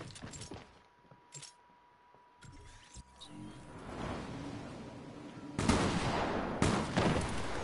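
Flintlock pistol shots in a first-person shooter video game, a few sharp bursts over busy game ambience and rising background action, heard mid-match without talk.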